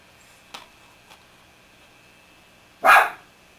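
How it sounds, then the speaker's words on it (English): A dog gives a single loud bark near the end, after two faint yips earlier against a quiet room background. "Stop barking!"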